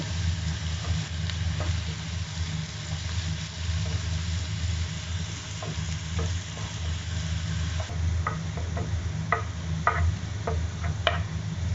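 Finely chopped onions with salt frying to golden in a pan for soya chunks roast: a constant close sizzle over a low hum, with sharp clicks of stirring toward the end.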